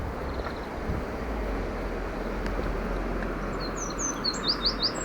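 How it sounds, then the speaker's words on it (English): Birds sing outdoors in spring along a zigzag path to Bournemouth beach, a few quick chirping notes rising near the end over a steady low rumble of background noise. "Birds singing, it's springtime."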